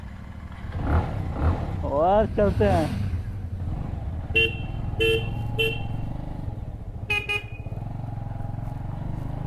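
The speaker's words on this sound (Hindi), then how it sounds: "करते हैं इंजन स्टार्ट" A Bajaj Avenger motorcycle idles and pulls away on a winter road near Dhanaulti, Uttarakhand, its low engine rumble running throughout while car horns honk several times in short bursts; someone speaks briefly near the start.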